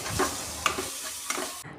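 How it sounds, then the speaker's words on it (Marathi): Dry spices, garam masala among them, roast and get stirred in a pan for a mutton curry. A steady, close sizzle and scraping stir run throughout, with a few brief clinks. "आता हे सर्व कोरडे मसाले आपल्याला असं यामध्ये भाजून घ्यायचं आहे परतून घ्यायचं आहे"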